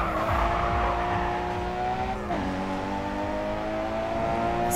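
A car in the GRID 2 racing game roars as it accelerates, the engine's harmonics climbing steadily, briefly dipping at a gear change, then pulling on again, loud and continuous with no talk.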